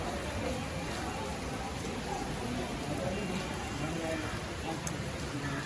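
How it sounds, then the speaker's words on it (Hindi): Heavy rain falls outside a home during a lockdown weekend, a steady, even hiss of water on surfaces heard from somewhat far off, faint and unbroken. "और नीचे बारिश बारिश बारिश"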